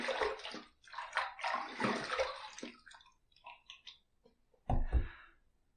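Water runs and splashes in a sink to rinse a razor and face after a first shaving pass, with bursts of flow, a few clicks and drips, then one louder splash near the end.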